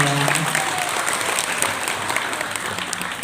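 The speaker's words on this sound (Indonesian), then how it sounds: "Tepuk tangan dulu dong." Audience of women at a creativity workshop applauding, a dense, steady wash of clapping that fills the whole stretch at close range.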